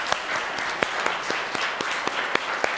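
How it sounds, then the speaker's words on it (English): A congregation gives a short burst of steady applause for a friend named Steve at a church service, with a few sharper individual claps standing out. "could you just give a little bit of applause to my friend Steve?"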